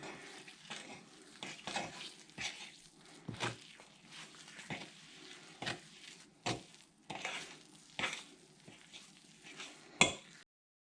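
A pot of thick scented paste blended with ambergris being stirred by hand, with a series of soft, irregular scraping and squelching strokes and small knocks against the pot, close by with no talking.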